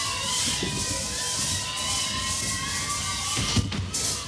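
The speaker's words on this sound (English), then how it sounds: "Come on, let's cheer him on." A crowd at an outdoor maple festival cheers and shouts on a contestant, a continuous wash of voices with children yelling and a brief louder burst near the end.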